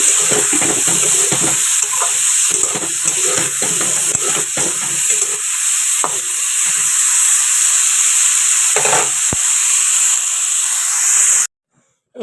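Whole cumin seeds and bay leaves frying in a little oil, a loud continuous hiss with scattered pops and stirring scrapes, ending abruptly in silence.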